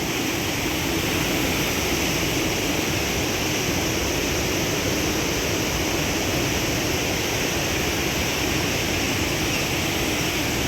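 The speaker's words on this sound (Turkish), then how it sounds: "Çağlayan Şelalesi burada." Çağlayan waterfall near Berdan Dam in Tarsus, Turkey, on a March morning: a steady, full roar of falling water, loud and continuous throughout with no voices.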